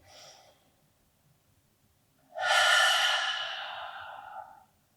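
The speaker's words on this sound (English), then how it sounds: "So take a deep breath in." Slow, deep breathing during a desk relaxation exercise: a soft short exhale, a pause, then one long audible breath that swells and fades, close and alone.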